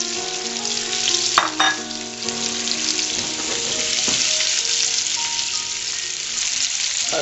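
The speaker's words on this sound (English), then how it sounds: "And we'll saute the onions." Onions and garlic sautéing in a pan give a steady close sizzle and frying crackle throughout, with a couple of brief utensil clicks and stirring scrapes near the start and middle.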